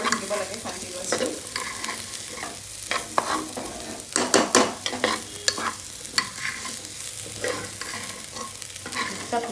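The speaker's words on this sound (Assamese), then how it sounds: "মিক্স কৰি থাকিব লাগে কণ্টিনিউৱাছলি" A spoon stirs vegetable pulao with butter in a pan, making irregular scraping and clinking strokes over a soft, continuous sizzle, close and fairly quiet with no talking.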